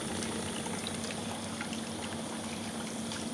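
An RO water purifier pump runs with water flowing, giving a steady, faint hum and hiss that continues alone.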